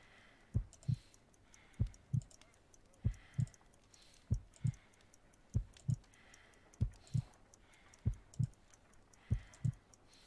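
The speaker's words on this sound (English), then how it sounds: "I need to concentrate and count the heartbeats." Steady heartbeat in the Sherlock Holmes: Crimes and Punishments video game, slow paired lub-dub thumps repeating about once a second, close and clear with no talk over them.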